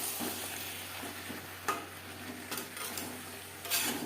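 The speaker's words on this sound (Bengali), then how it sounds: "বেগুন বেশ ভালো করে মিক্স করে দেবো। 3-4 মিনিট মিডিয়াম ফ্লেমে নাড়াচাড়া করে নেব" Potatoes and eggplant stirred together in a pan over medium flame, soft intermittent scrapes and taps of the utensil with a low sizzle underneath.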